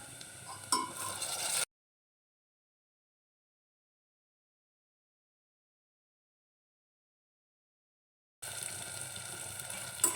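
Onions and tomatoes frying in a pan for aloo matar rice, giving a soft, steady sizzle at the start and end with a long stretch of silence between.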